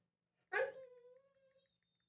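A dog cries in the background with a single drawn-out whimpering whine that breaks off into a few fading yelps, fairly faint, with quiet before and after.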